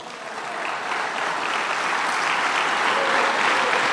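A church congregation applauds during a sermon, a dense, steady wash of many hands clapping that builds slightly and holds for several seconds without talk.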